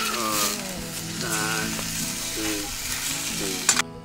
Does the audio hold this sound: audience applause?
no